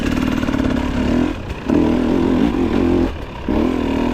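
A Husqvarna two-stroke dirt bike with throttle body injection and oil injection, ridden slowly along a woodland trail, its engine buzzing loud and close, dropping off twice in brief throttle lifts before picking up again.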